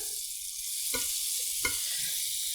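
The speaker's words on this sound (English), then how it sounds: "So we're gonna put some butter in here, an offensive amount of butter." A generous knob of butter sizzles in a Lodge Blacklock cast iron skillet, a soft, even hiss broken by a couple of brief taps, with no voices.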